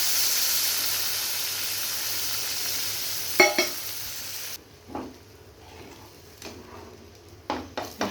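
Semolina for halua fries in oil in a pan with a steady sizzle and hiss, then quieter stretches broken by a few sharp stirring scrapes against the pan.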